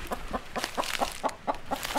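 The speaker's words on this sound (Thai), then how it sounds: "แม่ไก่ได้ร้องกุ๊กกุ๊ก" Hen in a Thai children's story clucks in a quick, steady series of short, even pulses, close and moderately loud, with no voices over it.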